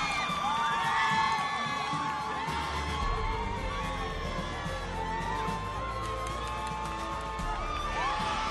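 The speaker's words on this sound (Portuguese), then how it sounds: "Olha só, a torcida está imensa." Crowd at the Miss São Paulo beauty pageant cheering and shouting continuously, a dense wash of voices and whoops with a low steady rumble underneath, moderately loud and sustained.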